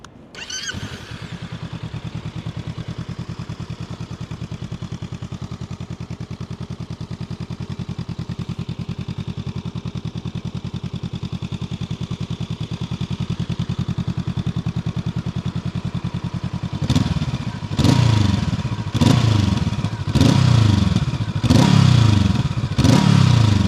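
A Honda CL500 motorcycle engine idles steadily and loudly up close for most of the time, then gets a series of sharp throttle blips that rise and fall in quick bursts near the end, with no voices.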